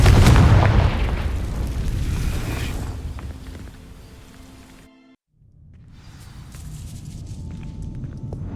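A Confringo spell explosion in Hogwarts Legacy bursts with a loud booming blast that rumbles and fades over several seconds, then a short silence before low crackling, rain-like ambience returns.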